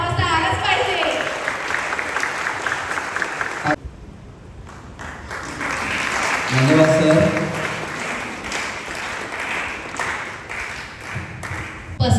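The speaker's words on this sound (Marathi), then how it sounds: "जोरात झाला पाहिजे कंजूशी कशाला मित्रांनो टाळ्यांचा" Loud applause from a crowd at a ceremony honouring a new salon opening in Virar runs through most of the stretch, breaking off briefly before swelling again, with a voice speaking over part of it.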